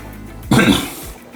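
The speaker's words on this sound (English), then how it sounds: "It was like I coughed." A single sharp, close cough bursts out once and fades quickly in an otherwise quiet indoor setting.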